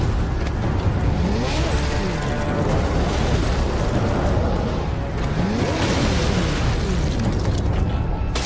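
An orbital weapon fires and detonates in a Warhammer 40K Space Marine cutscene, a sustained, loud, dense roar of blasts and crashing debris with descending swooping tones running throughout, no speech heard.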